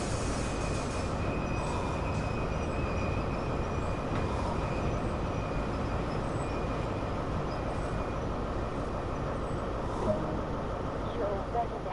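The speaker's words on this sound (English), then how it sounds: "bring the train to a gradual stop" A video game train rumbles steadily along the rails while braking to a gradual stop, a constant heavy drone with faint squeals, slowing without any sharp change in level.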